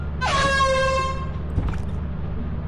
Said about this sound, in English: And then we got an air horn.